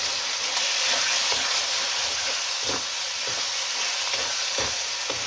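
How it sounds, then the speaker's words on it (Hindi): Ground masala of red chilli, coriander powder and cumin powder roasts in a pan for aloo matar keema, a steady hissing sizzle punctuated by regular soft knocks of stirring; nobody talks. "अब मसाले को इसके अंदर भून लें।"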